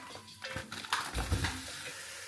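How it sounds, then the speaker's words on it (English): Food sizzles in a hot pan amid clattering pots and utensils, with a burst of louder frying and scraping partway through. "Whilst that cooks down a little bit, you can hear it sizzling"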